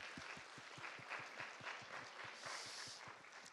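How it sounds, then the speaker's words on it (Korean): A church congregation at a Sunday service applauds, with a crowd of hands clapping under a steady, regular low thumping beat, soft and roomy throughout. "박수 올려드리도록 하겠습니다."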